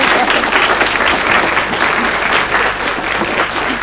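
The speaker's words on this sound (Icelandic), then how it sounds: "Ég gef henni gott klapp aftur." Studio audience at a 1990 Icelandic television talk show breaking into loud, close, sustained applause, a dense crackle of many hands that continues evenly throughout and eases slightly toward the end.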